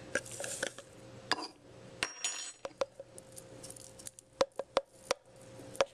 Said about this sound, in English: We'll start adding our fresh ground basil right into this container.